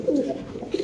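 A male pigeon, a desi pigeon, gives a short, soft, low coo up close, a single throaty call lasting under a second.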